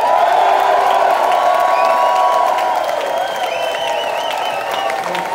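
A packed concert crowd at the Starland Ballroom in Sayreville, New Jersey applauds and cheers for the band, loud sustained roaring with whoops and shouts riding over continuous clapping, plus a ringing tone beneath.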